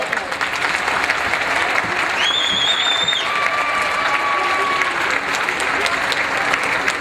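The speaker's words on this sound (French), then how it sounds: "applaudissements pour cette catégorie des 7-9 ans." Steady applause from an audience at a children's show honouring the 7–9 year-old category, a dense broadband wash of clapping that holds throughout, with a few faint whistles rising above it.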